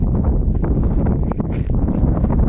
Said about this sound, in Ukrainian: Трохи вітряно хоч.